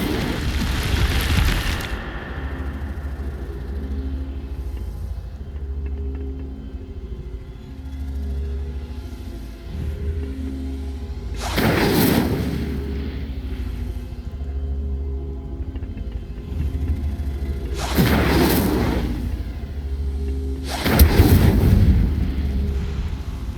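Incendio fire spells cast in Hogwarts Legacy, four separate whooshing fiery bursts spaced several seconds apart over a low, steady rumbling background.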